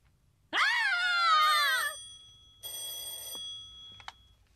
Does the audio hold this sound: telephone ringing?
yes